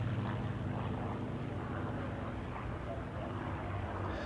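A steady, droning engine roar from a Messerschmitt 109 fighter aircraft flying at an airshow, holding at an even level throughout without breaks.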